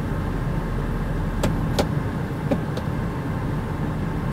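A 1999 Pontiac Montana minivan is shifted into gear: a few sharp clicks and clunks sound over a steady, close engine idle hum.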